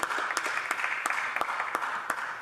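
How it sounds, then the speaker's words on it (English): Members in the Canadian House of Commons chamber clap faintly at a distance, sparse sharp claps scattered unevenly over a quiet room tone for a couple of seconds. "that resounding applause from my neighbour in Barrie Innisfil"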